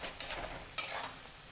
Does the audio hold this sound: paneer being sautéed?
yes